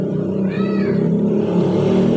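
A Yamaha NMax scooter engine idles with a steady rough, rattling hum, reportedly from a worn camshaft bearing above the cylinder head, close and continuous, with a brief faint whine rising over it partway through.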